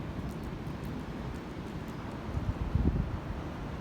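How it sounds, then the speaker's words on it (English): Strong Storm Ciara wind, around 100 km/h at times, rushes steadily past the microphone as a low roar, with a brief louder gust near the end and faint rustling. "the wind is still about 100 kilometers an hour at certain points"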